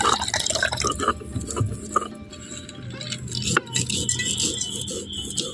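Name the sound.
washing neem flowers in water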